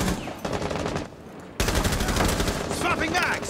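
Rapid automatic gunfire from the operator Buck in Rainbow Six Siege rattles in two loud bursts separated by a brief lull, dense and close, with no voices over it.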